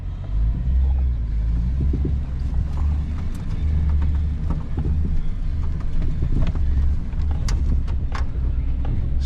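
A Cateye Chevrolet Z71 pickup truck drives along with a steady low engine and road rumble, some wind buffeting and a few light rattles and clicks from the cab, and no talking.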